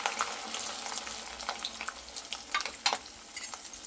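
Slit okra sizzles and crackles in hot oil in a pan, a continuous close frying hiss dotted with sharp pops and spatters, with no voices.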